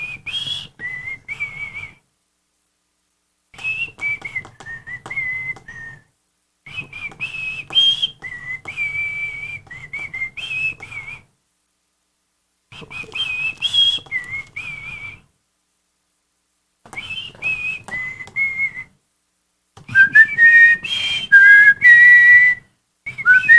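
A person whistles a song melody in clear, bright phrases separated by short silences, close and fairly loud, with no talk over the tune.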